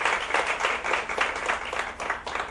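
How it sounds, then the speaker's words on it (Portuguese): Audience applause at a university lecture event, a dense, steady clapping from a seated crowd that swells in rhythmic pulses throughout, fairly close and loud with no voices over it. "Uma salva de palmas para Maurício."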